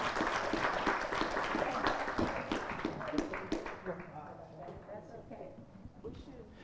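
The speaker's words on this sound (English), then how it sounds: "Let's give them a round of applause." An audience at a conference panel applauds with scattered clapping that starts strong and fades away over several seconds.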